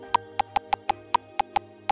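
REAPER metronome clicks in a triplet pattern: nine short, sharp, evenly spaced ticks over two seconds with a slightly louder accented click mid-way, clean and close with no talking.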